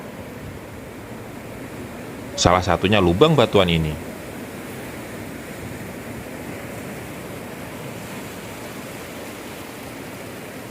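A steady roar of ocean surf and wind rushing over rocks at Ciletuh Geopark, with a brief spoken phrase near the start and the rumble continuing on its own.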